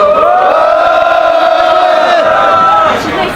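A large crowd at a candlelight rally in Jecheon supporting a railway strike cheers and shouts loudly together. The roar is sustained and close, then begins to fade near the end.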